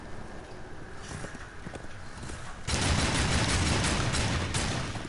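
Rapid-fire shooting in the video game Darksiders 2, a dense continuous burst of machine-gun-speed shots that gets louder halfway through over a steady noisy game backdrop, with no talk.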